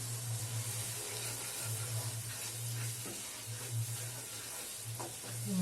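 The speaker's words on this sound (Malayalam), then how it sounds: "മസാല ഒന്ന് ഫ്രൈ ആയി വരണം." Masala sizzling in a pan while cooking palak paneer, a steady soft frying hiss close by with occasional stirring scrapes and a low background hum.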